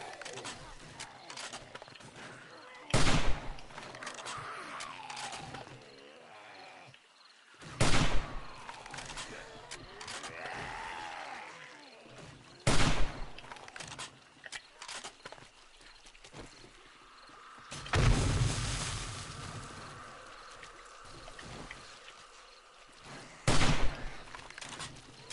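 Gunshots fired at zombies in the PS4 game 7 Days to Die, heard as four or five loud, sharp single blasts spaced several seconds apart over a low ambient background.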